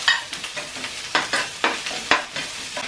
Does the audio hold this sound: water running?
no